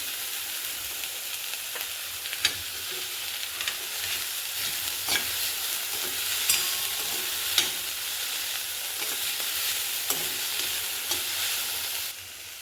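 Capsicum sautéed in a pan, a steady close sizzle running throughout with occasional soft clicks and scrapes of a spatula.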